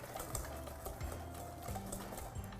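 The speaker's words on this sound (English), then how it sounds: "Whisking that very quickly." Melted butter being whisked quickly in a bowl, a steady, fast, faint rhythmic tapping and swishing that runs throughout without talk.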